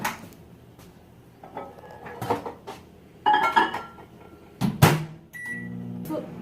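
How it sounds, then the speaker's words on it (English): Kitchen clatter and a door thump lead into a microwave oven humming as it melts butter, with a short electronic beep near the end. "putting the butter in the microwave so it can be melted"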